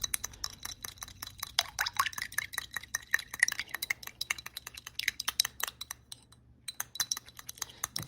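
A natural cosmetic gum is stirred into a liquid, making quiet, rapid clicking and tapping as a utensil strikes the container, with a brief pause near the end.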